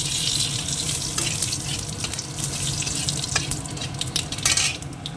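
Whole spices crackle in hot oil: cloves, cardamom, dried red chilli, bay leaf and cumin make a loud, dense sizzle with scattered sharp pops throughout, close up and without speech.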